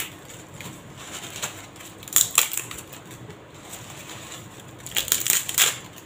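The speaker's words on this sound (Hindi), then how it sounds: "अब ये मसाले सूख चुके हैं तो मैं तेज पत्ती को तोड़कर देखती हूँ" Dried bay leaf snapped and crumbled by hand after drying for garam masala, giving soft crisp crackles in two short bursts, close and fairly quiet with faint background noise and no talking.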